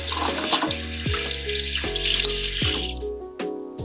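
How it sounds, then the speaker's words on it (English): A spoon rinsed under a running kitchen tap: close, loud gushing water with the spoon clattering against the flow and sink, then the stream shutting off near the end. "let me rinse this spoon, huh?"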